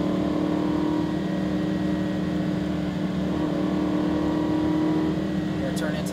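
A Lamborghini Huracan accelerates on a race track, its engine a steady loud drone throughout, heard from inside the car under a driver's coaching voice.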